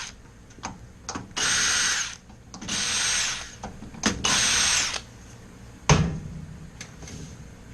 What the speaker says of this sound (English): This is made a lot easier with my little impact drill and one of these 8mm bits.